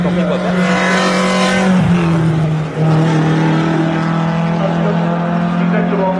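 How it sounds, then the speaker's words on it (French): A race car at a hill climb course roars past close by, its engine note sweeping down in pitch as it goes by and then droning steadily off into the distance, loud and continuous. "un pilote breton vient de passer devant nous"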